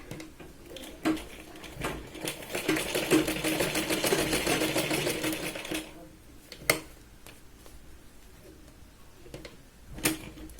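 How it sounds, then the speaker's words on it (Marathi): Sewing machine stitching the point of a katori blouse, a steady mechanical whirring run of several seconds, then stopping, followed by a few sharp clicks and handling knocks. "कटोरीच्या पॉईंटला 2 ते 3 वेळा आपण शिलाई लावून घेऊया."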